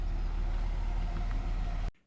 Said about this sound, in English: We are going to go for a leisurely cruise in the 2001 Buick LeSabre